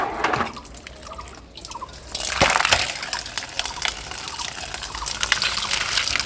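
Pumpkin seeds washed by hand under running water, a close splashing gush with drips and wet rubbing that grows busier partway through, no voices.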